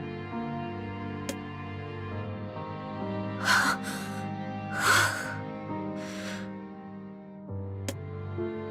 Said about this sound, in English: Her breathing remains ragged, her footing unsteady.